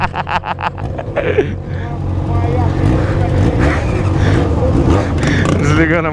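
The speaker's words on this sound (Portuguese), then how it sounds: "Desligando a moto, viu?" A Yamaha XJ6 motorcycle engine runs loud and close in a steady drone, with talk and knocking at the start before the motor settles into a continuous hum.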